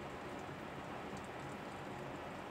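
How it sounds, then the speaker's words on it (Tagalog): Steady, continuous rain falls with no letup, a dense, even hiss of drops at moderate level, with no voices or other sounds above it. "Walang tigil yung ulan."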